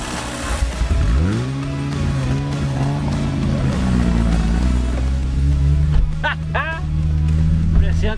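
A 1974 Volkswagen Fusca (Beetle) on a test drive, its engine revving up and pulling hard, then settling into a steady drone with further revs near the end, loud and close, with people talking over it.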